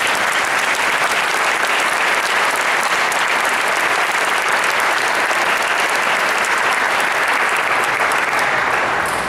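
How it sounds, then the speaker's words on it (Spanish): Sustained, even applause from a lecture audience, loud and steady throughout with no voices above it. "pido un aplauso para él"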